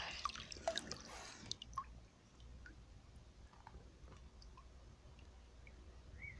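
Faint, scattered drips and small splashes of water in a swimming pool, soft and close, with a few sharper wet plinks early on and a quiet lull between them.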